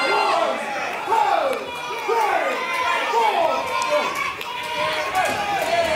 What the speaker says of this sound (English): The crowd really want Kieron.